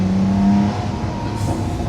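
A Lamborghini Sian's naturally aspirated V12 hybrid engine drones loudly from inside the car, holding a steady tone before the pitch shifts as it keeps pulling, with no voices over it.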